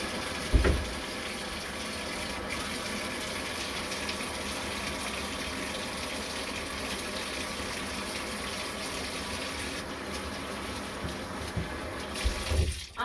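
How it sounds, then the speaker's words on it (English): A handheld shower head set on the floor runs steadily, a continuous broadband hiss of spraying water with a few brief knocks near the start and end. "grab the shower head, put it on the floor, turn it on"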